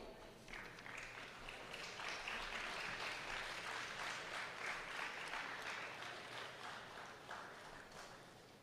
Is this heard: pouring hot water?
no